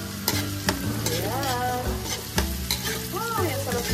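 Onions frying in a hot pan for a pork-and-ampalaya dish, with a steady close sizzle and repeated scraping stirs from a utensil, several sharp clanks against the pan, and faint tonal sounds in the background.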